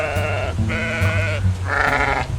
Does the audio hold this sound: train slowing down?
no